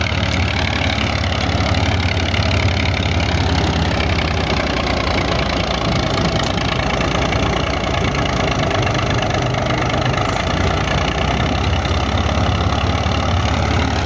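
Massey Ferguson 135 tractor working a 42-blade rotavator through a maize-stubble field, its engine labouring in a loud, continuous, heavy drone with a steady knocking chug throughout and no talk over it.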